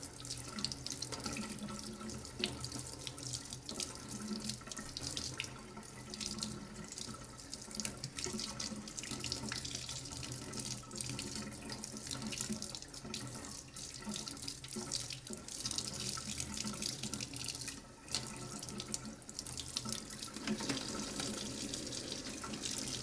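A tap runs continuously into a sink with a steady hiss and splash, faint and even throughout, with no voices.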